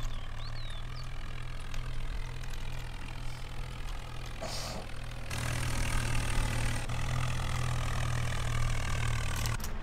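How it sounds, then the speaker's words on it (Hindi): A tractor engine idles in the Farming Simulator 19 video game, a steady low drone that runs the whole time with no talk. It grows slightly louder about halfway through. "तो भाई ट्रैक्टर भी पहुंच गया घर"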